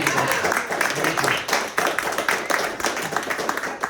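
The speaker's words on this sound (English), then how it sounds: "Another round of applause." A small crowd claps and applauds at a spoken word event in a gallery, a scattered, uneven patter of hands continuing for several seconds, with some voices mixed in.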